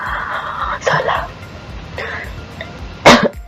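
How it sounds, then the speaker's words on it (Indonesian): A single person coughs during a math lesson: a few short cough bursts, then one sharp louder cough near the end, heard close against faint room noise. "Batuk."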